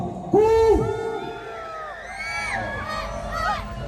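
A festival crowd lets out loud hooting and booing at a folk celebration, a sharp collective whoop rising and falling with layered shouts and jeers, voices overlapping in waves for several seconds.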